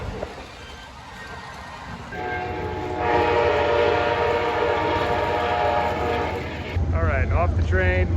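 Amtrak passenger train rolling steadily, its horn sounding in sustained harmonic blasts through the middle and again near the end, loud and close over a continuous rumble of wheels on rail.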